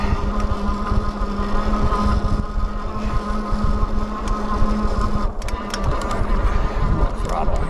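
Dual 1000 W motors of a Wallke H9 all-wheel-drive e-bike whining under throttle on a hill climb, a loud continuous motor hum with a steady tone, mixed with wind and road rumble.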